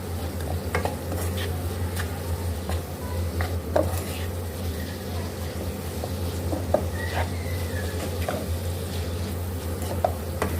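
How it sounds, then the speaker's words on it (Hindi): Beef mince fries in a pan with salt, black pepper and spices, sizzling softly while a spatula stirs and scrapes, tapping the metal in irregular clinks. "दो मिनट इसको हम मसालों के साथ अच्छे से इसको भून लेंगे।"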